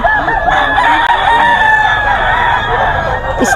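A rooster crows among chickens offered for sale at a market in Bocaue, one long drawn-out call held steadily at close range with no talk over it.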